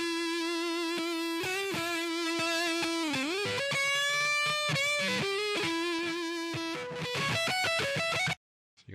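A sung musical phrase is played back through an Adobe Audition CS6 distortion effect, giving harsh buzzy harmonics over the melody until it cuts off abruptly near the end.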